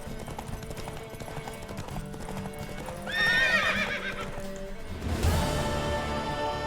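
A horse in the video game Witcher 3 trots with steady clip-clopping hooves, then gives two loud whinnies, the second one stronger, over a low game background.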